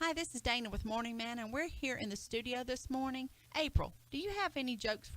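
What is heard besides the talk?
None of the usual background noises is heard.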